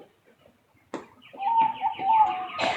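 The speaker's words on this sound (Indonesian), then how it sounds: "Aduh, suara burung lagi." Birds calling outdoors, with repeated cooing and chirping notes rising after a quiet start, fairly close and moderately loud against background noise.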